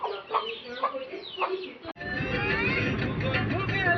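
Hens cluck at a rural home where ducks and chickens are kept, including a mother hen pecking rice; a few short clucks sound close by before a steady broad noise takes over.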